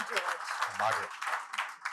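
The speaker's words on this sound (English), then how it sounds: "One round of applause for the gentlemen." Brief applause rings out for the speakers at a plaque unveiling in Troon, a steady crowd patter running under a voice calling out names.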